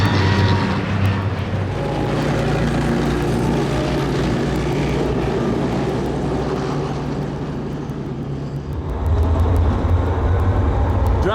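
A Bradley Fighting Vehicle driving off-road at speed, its engine and drivetrain giving a loud, continuous low roar that holds steady, dips slightly, then swells again near the end, with no talk.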